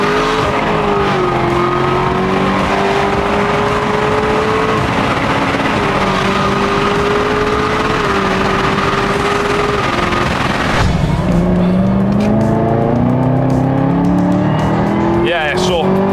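A Chevrolet Camaro ZL1 muscle car accelerates hard on a race track, its loud V8 roaring and climbing through gears with pitch sweeps and a sharp shift or lift near the end, heard from inside the car with a driver talking over it.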